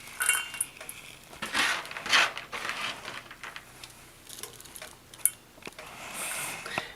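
Quick, irregular knife chops on dried cranberries clack against a cutting board, bursts of sharp taps with brief pauses between them, close up and fairly quiet.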